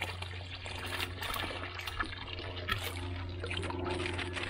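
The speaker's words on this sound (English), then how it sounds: "I guess I'm putting all that water in there." Steady stream of water pouring and splashing into a farm tank, continuous and moderately loud over a low mechanical hum.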